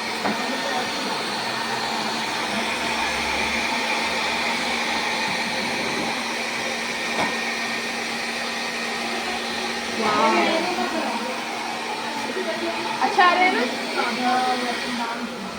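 A hair dryer runs steadily near the microphone as a continuous airy whoosh throughout, with brief rustling and a few faint voice-like sounds toward the end.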